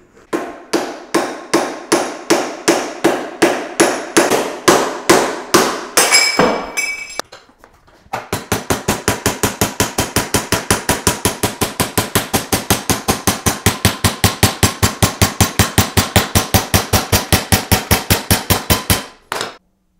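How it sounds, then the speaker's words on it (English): Rapid hammer blows clang against welded aluminium held in a vise in a steady rhythm, a brief pause with a few ringing clinks, then a long faster run of strikes that stops abruptly. "let's poke that in the vise, see how it gets on with a hammer,"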